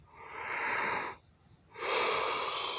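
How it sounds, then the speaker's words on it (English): A person yawns twice, long breathy exhalations close to the microphone separated by a brief pause, with no speech. "Sorry about my yawning."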